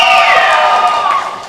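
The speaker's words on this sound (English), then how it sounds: "lots of cheering from the crowd and from the teams" Crowd and teammates cheer and whoop at a college swim meet, a dense continuous roar of voices in an echoing indoor pool hall, loud throughout.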